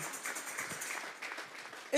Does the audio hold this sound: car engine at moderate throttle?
no